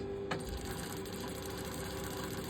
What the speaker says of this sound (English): Edge stitching at the moment.